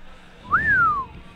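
Single whistled note from a person, sliding up quickly then gliding slowly downward, close and clear over a faint low background hum, lasting about half a second, at a Modern Friday Night Magic card game stream.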